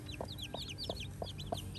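A hen brooding eggs clucks softly and rhythmically, about five short close clucks evenly spaced, with small chicks peeping above it in a quiet farmyard.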